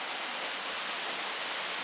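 A waterfall at Stinging Fork Falls gives off a steady, broad, even rush of falling water, continuous and moderately loud with no other sounds.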